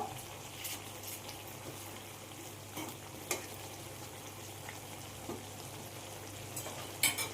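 Undhiyu, a mixed vegetable dish, gets a gentle stir in the pan after jaggery is added. The sizzle is faint and quiet, broken by a few light scraping knocks from the spoon.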